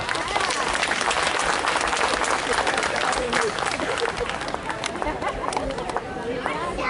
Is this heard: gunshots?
no